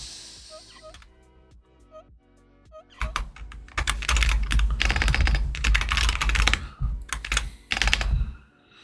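Rapid typing on a tiny computer keyboard with no F-keys, used for a Worms game match: sparse clicks at first, then a dense, loud burst of continuous keystrokes close up.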